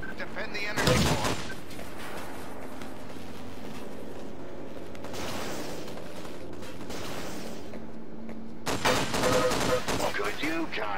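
Video game gunfire in a volcano setting: a loud burst of shots at the start and another near the end, with a quieter rattle in the middle over constant low ambience.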